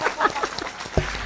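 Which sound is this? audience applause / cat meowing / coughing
audience applause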